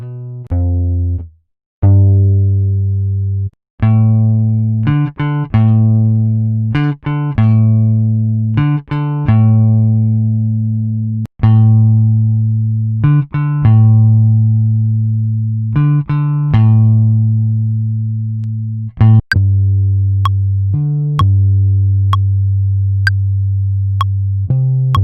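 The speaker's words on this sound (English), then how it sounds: "let's pull up the Rickenbacker bass plugin in Contact" A Rickenbacker electric bass sampled in a Kontakt instrument plays a loud, low melodic line of plucked notes, with rhythmic phrases, sustained tones and short gaps, ending with a few sharp clicks.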